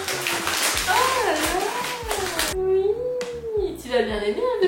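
A domestic cat meows near its bowl of crushed kibble, its rising and falling calls repeated several times under a woman's speech in a home in Lisbon.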